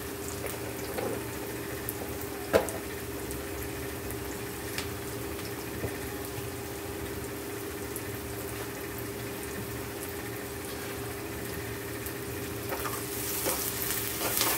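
Prawns and ladyfingers frying together in a pan, a low steady sizzle with occasional clinks and stirring scrapes, the frying growing a little brighter toward the end, no voices.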